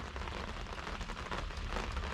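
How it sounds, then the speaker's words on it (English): Rain pouring outdoors around a wooden boat under restoration, a brief, steady, close patter and hiss with no one speaking. "Oh, I love being outside in the rain, actually."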